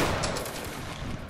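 Musket volley fired on command in a Napoleonic-era video game battle, a dense crackle of many shots merging into one sustained rolling burst that stays loud across the moment.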